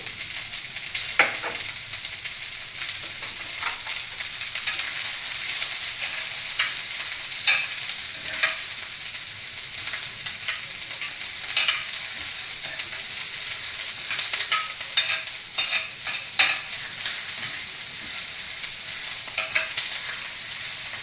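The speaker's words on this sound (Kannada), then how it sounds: "ಈರುಳ್ಳಿ ಫ್ರೈ ಮಾಡ್ಕೋಬೇಕು ಈರುಳ್ಳಿ ಹಾಕ್ಕೊಳ್ತಾ ಇದ್ದೀನಿ" Onions frying in a pan for kadai paneer gravy, a steady bright sizzle held throughout with frequent small crackles and occasional stirring clicks.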